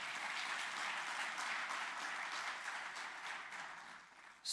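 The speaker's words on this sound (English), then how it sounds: "can we show by a clap of hands, please?" A conference audience at an African blue economy event claps hands in steady, dense applause that stays even and fairly soft, then thins out near the end.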